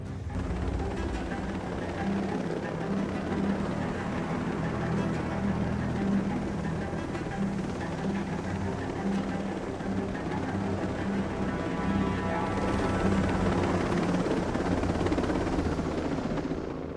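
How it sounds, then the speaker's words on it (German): Helicopter flight in the video game Echelon, heading to a navy ship fuel station: a steady, dense rotor and engine drone that holds at an even loudness throughout, with no talk over it. "Ab geht's mit Heli"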